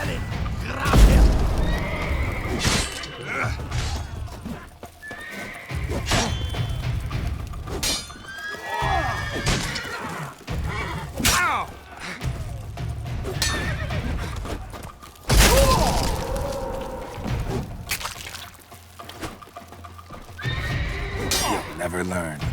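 Horses neigh and whinny in The Witcher 3: Blood and Wine, loud repeated calls amid hoofbeats and crashing, breaking impacts in a chaotic scene.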